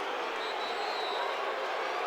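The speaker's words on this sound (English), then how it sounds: "Listen to this crowd." A dense, steady roar of a stadium crowd at a 2025 high school football game between Grimsley and West Charlotte, cheering continuously without breaks and filling the whole stretch at strong volume.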